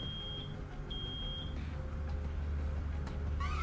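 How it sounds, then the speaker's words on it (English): An alarm beeps in the video game Road 96, two sustained high electronic tones in quick succession over a low steady hum, with no talking. "It's an alarm!"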